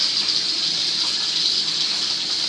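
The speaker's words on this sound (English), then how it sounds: "You can cut off the water." Water gushes steadily from a kitchen tap in a home kitchen where fish are being cleaned, a constant close hiss with no pauses or speech.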